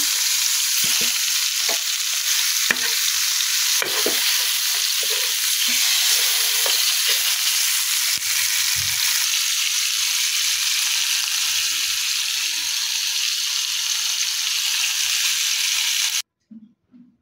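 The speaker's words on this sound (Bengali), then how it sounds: "আমার চিকেনটা ফ্রাই হয়ে গেছে এক পিস। এখন আরেকটি পিঠা ভেজে নিব ভালো করে।" Chicken pieces frying in a pan of oil give a strong, continuous close sizzle with light crackles, then stop abruptly near the end, followed by a few faint knocks.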